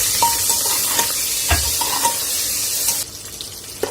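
Eggplants tipped into a pan with golden-browned garlic and stirred, a brief sizzle with light scraping clinks of a utensil at regular intervals, close by, dropping quieter after about three seconds; no talking.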